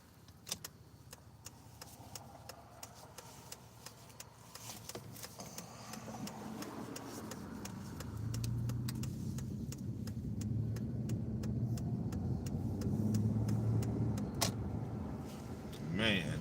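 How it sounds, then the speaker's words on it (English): Dense road traffic rolls past at close range, a steady broad rumble that swells and thickens over its length, with a car-like hum and occasional sharp clicks inside a vehicle. "traffic is nice and thick."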